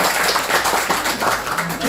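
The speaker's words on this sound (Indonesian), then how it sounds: "tepuk tangan dong buat Sidodadi" A crowd at a village-tourism talk event in Indonesia claps steadily for a couple of seconds, dense and continuous applause with a bit of background chatter mixed in.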